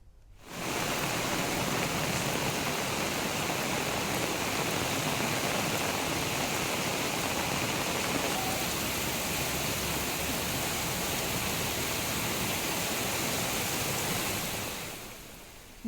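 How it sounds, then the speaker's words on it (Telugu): Heavy rain pours down on Hyderabad roads around Abdullapurmet as a dense, even roar that holds at the same level for about fifteen seconds before tapering off at the end. "అబ్దుల్లాపూర్మెట్లో భారీ వర్షం కురుస్తుంది"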